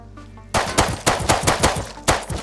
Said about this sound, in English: Oh, there's a turret.